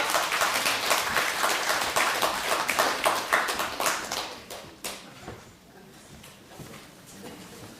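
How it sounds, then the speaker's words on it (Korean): An audience in a church lecture hall applauds to welcome a speaker, dense loud clapping that thins and fades out after about five seconds, followed by quiet room sound and talk. "박수로 환영해 주시기 바랍니다"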